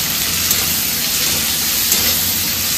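Garlic and chopped onion fry in a pan with a steady, close hiss and sizzle that holds unbroken throughout, with no talk over it.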